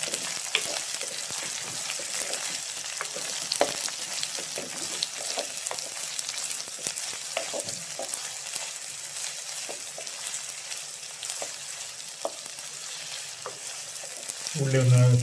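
A medium onion sautéing in a pan gives a dense, steady sizzle with frequent scraping and stirring clicks, close and continuous, and a brief louder clatter at the very end.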